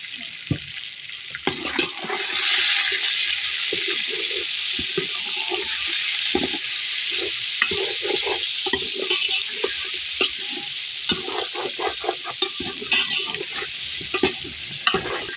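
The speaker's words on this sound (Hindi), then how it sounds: "इसको तकरीबन 2 मिनट और भूनेंगे इसको, 2 मिनट तक" Chicken frying with ginger garlic paste sizzles steadily and loudly in the pan, with frequent scraping and stirring clatter of a utensil throughout.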